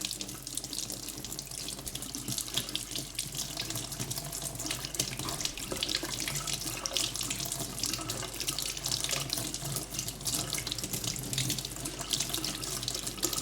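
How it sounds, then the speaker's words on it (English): Tap water runs steadily into a sink as the inside of a Lux Bruyere briar pipe is rinsed under the stream, a continuous close splashing rush with no voices. "Now we're gonna rinse the inside as well"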